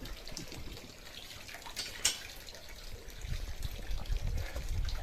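Water trickling and splashing from an outdoor tap along a valley path, a soft steady flow with low rumbling outdoor noise around it.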